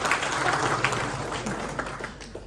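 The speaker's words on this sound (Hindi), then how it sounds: "तालियां, लाल सलाम।" An audience claps at a retirement day speech for a trade union general secretary, a brief burst of scattered applause that fades quickly toward the end.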